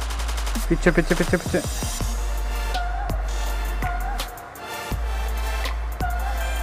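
Gunfire in the mobile game Free Fire: a quick burst of rapid shots early on, then scattered single sharp cracks spaced a second or so apart, with someone speaking Hindi briefly.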